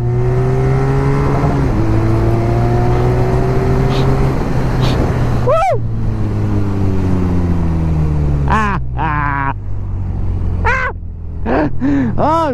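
A BMW Classic SuperBike accelerates on a British road, its loud engine climbing through rising revs in several gear steps, close and continuous, with a few higher whines near the end.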